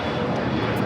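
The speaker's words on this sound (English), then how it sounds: "Next takeoff is United Airlines flight 1834. It's a flight heading to Dulles in a 777-200" A United Airlines Boeing 777-200 takes off at LAX, a steady broad jet-engine roar heard from a distance, brief and unbroken, with no voices.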